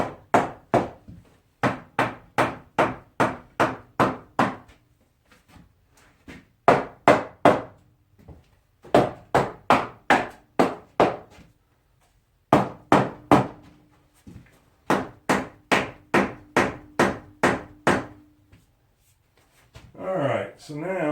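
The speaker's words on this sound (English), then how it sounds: "now all we're going to do is just start tapping it in place." Series of hammer taps driving a glued wooden shed door into place for a tiny house cabin, close sharp knocks in quick bursts of six to ten with short pauses between; a voice speaks briefly at the end.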